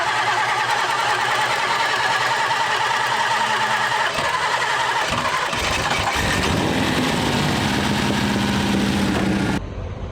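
A hot drag race car is started with a bump button, its engine cranking and catching into a loud, rough, steady idle close by that cuts off abruptly at the end.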